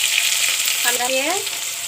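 Vegetable curry with spices frying and being stirred in a pan, a steady loud sizzle throughout with a brief voice-like tone rising in the middle.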